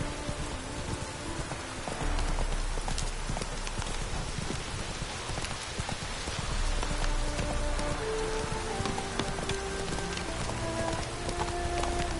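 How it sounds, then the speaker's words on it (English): Hooves of a horse clip-clop steadily through rain in The Witcher video game, a continuous patter of raindrops on surfaces filling the background throughout. "Run, Roach. Not so fast, Roach"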